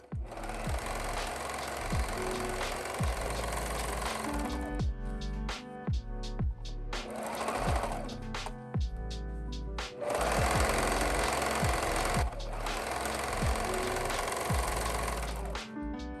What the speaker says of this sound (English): I'm using a serger here.